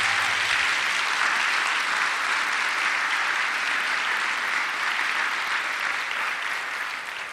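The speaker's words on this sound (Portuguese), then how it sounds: "Então aplauda a Nossa Senhora" A church congregation applauds in honor of Our Lady, a broad sustained wash of clapping that slowly tapers toward the end.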